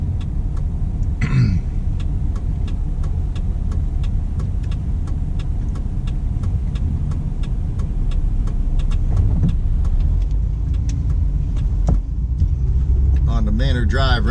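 A car pulls out of the south side of the Manor Plaza parking lot in Pacifica, California, with a steady engine rumble and road noise throughout and a brief clatter near the end.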